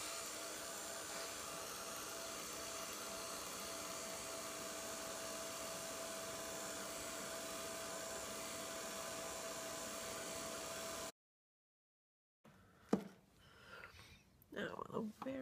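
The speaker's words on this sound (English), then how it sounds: "I'm gonna heat set it again." A heat tool blows steadily for about eleven seconds while setting paint on a handmade winter greeting card, a loud, constant airy whoosh that then cuts off abruptly, followed by faint handling noises.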